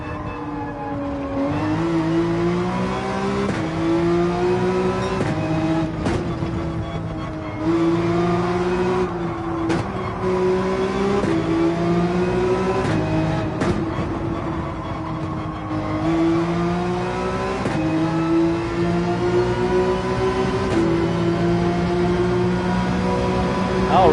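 Race car engine in Gran Turismo 7 revving hard through tunnels at Daytona, a loud continuous droning whine that rises and falls with shifts, sustained throughout with brief sharp clicks.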